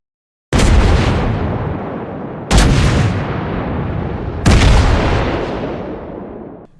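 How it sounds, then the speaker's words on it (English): An Iowa battleship's 406 mm guns firing in World of Warships Blitz: three loud, deep booms about two seconds apart, each with a long rumbling tail. "So this is the Iowa with 16-inch or 406mm guns firing."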